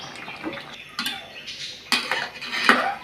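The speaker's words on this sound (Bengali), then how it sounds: "এভাবে একটু একটু করে নাড়িয়ে দিতে হবে" A utensil stirs pabda fish curry with cauliflower in a pan, with intermittent metallic clinks and scrapes over a soft bubbling background. No one talks.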